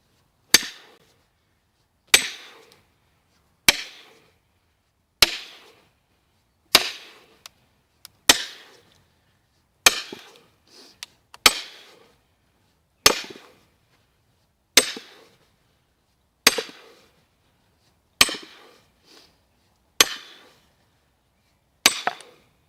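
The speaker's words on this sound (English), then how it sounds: "I use a 14-pound sledgehammer, and that makes really powerful hits that drives the wedge quickly." A 14-pound sledgehammer drives a steel splitting wedge into wood with about fourteen sharp, ringing metallic blows, evenly spaced roughly every one and a half seconds, each loud and close, followed by a short decay.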